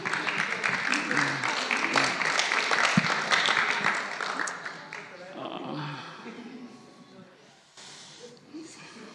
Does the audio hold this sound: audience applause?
yes